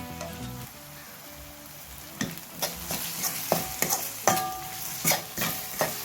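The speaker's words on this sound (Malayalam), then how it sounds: "ഉള്ളി നന്നായിട്ട് വഴണ്ട് വരണം" Chopped onions sautéing in a pan for chicken curry, a steady close sizzle broken by scraping strokes of a spoon that grow louder and more frequent partway through, with no talking.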